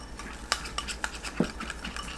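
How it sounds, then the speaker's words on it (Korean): A spoon stirs glutinous rice flour into water in a bowl, with quick light clinks and scraping taps against the sides in an irregular rhythm, close and fairly quiet. "찹쌀가루 수북하게 한 큰술, 물 100ml 넣고 골고루 섞어주세요"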